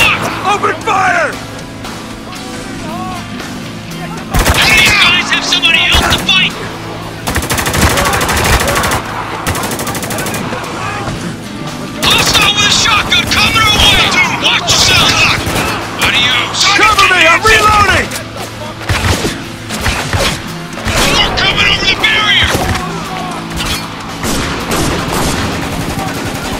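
A firefight in the shooter Spec Ops: The Line, with loud bursts of automatic rifle fire and single shots in repeated volleys. Soldiers shout and talk between and over the gunfire.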